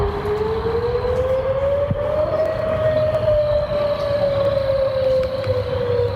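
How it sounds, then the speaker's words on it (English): A tornado warning siren wails in the distance, a single long sustained tone slowly rising then gently falling, steady and unbroken over a low background rumble. "The often dreadful sound of sirens means it's time to get indoors and take cover."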